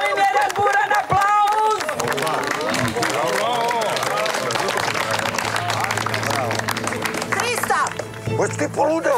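An audience at a charity donor evening breaks into dense clapping and cheering during an auction bid, with voices talking loudly over the steady applause throughout.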